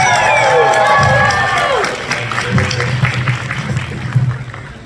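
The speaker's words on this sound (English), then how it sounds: "give Matt a round of applause" A convention panel audience cheers and whoops with high excited voices, then settles into scattered clapping and crowd noise that grows a little toward the end.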